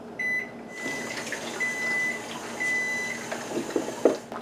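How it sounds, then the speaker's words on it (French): A kitchen timer is set while chicken fricassée simmers covered on the stove: several short electronic beeps and tones sound over a faint room hum, fairly close, with soft clicks and a brief clatter near the end, no talking. "Alors, je mets une minuterie."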